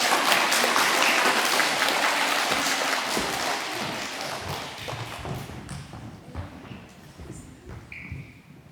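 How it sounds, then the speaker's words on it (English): Applause from a primary school audience at a Year Three presentation day for award recipients: dense, steady clapping that gradually thins and fades over several seconds. "Let's give them one more round of applause."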